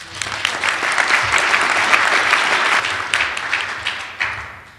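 Audience applause at a speaking event, a steady dense burst of clapping from a crowd that holds for several seconds before tapering.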